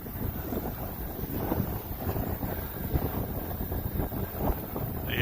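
Strong wind buffets an outdoor microphone in steady, rumbling low gusts that swell and ease throughout, loud and continuous with no voices, while a radio-controlled Arrows Edge 540 plane is flown nearby.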